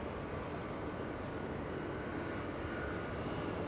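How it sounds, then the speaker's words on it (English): A KLM airliner on its south arrival at Los Angeles International Airport, a steady broadband roar of engine noise that fills the whole stretch at moderate, distant loudness with no talk. "we will get the last few seconds of KLM as it makes a south arrival."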